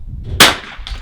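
.22 rimfire rifle shot at an NRL22 match, a single sharp crack followed by a short ringing decay as it strikes a steel target, close and loud over low background rumble.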